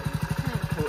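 A motorcycle engine runs close by with a fast, regular low thumping pulse, a steady idle-like beat through the short stretch.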